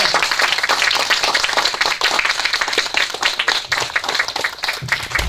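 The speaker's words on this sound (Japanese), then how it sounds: "皆様拍手でどうぞお迎えくださいませ。" An audience claps to welcome a guest onstage, a dense crowd of hands beating in a lively, uneven patter that stays strong from start to finish.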